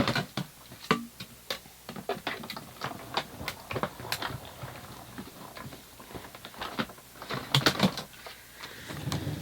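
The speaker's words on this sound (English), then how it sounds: "we'll run that through the die cutting machine" Manual die cutting machine cranking papercraft pieces through for a layered flower card, a close run of uneven ratcheting clicks and knocks with mechanical clatter, no voice.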